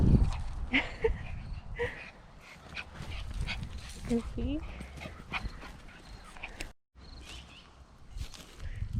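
A 14-year-old dog moves about nearby with soft whimpers and pattering steps while a person talks over it.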